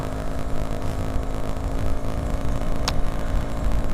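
A steady, rumbling engine drone with road and wind noise from a Yamaha F1ZR motorcycle riding along a road at night, continuous and close throughout.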